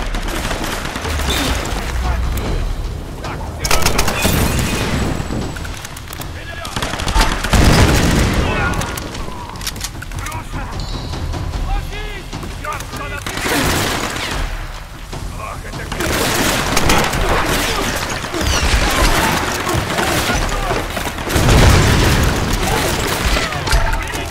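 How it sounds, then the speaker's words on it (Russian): Grenade blasts and gunfire in the Tomb Raider video game, a dense barrage of repeated booms and shots running throughout, loud and busy with little pause between bursts. "мы тут устроили взрывы, они нам устроили взрывы"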